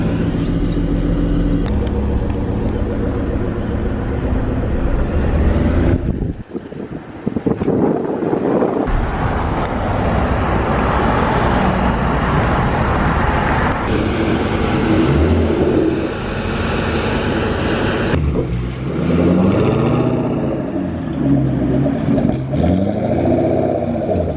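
A Jeep driving with heavy wind buffeting the microphone, loud engine drone and road rumble rising and falling as it accelerates, with a brief drop near the start.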